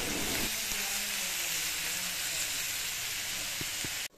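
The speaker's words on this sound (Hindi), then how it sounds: "टमाटर और प्याज अच्छी तरीके से भुन चुका है" Chopped onions and tomatoes fry for a mutton curry, giving a steady, close, rain-like sizzle that runs evenly throughout, with a couple of soft utensil taps near the end before a sudden cutoff.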